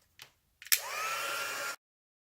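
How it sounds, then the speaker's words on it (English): A couple of soft clicks come first. Then a crafting heat tool, aimed at embossing powder on a handmade card, switches on and blows a steady whirring hiss at close range for about a second before cutting off sharply. "we can use the heating tool to go ahead and set that powder"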